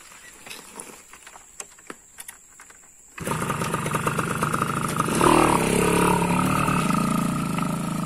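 A motorcycle engine starts abruptly after some light clicking, then idles and revs with a rough, buzzing rattle close by.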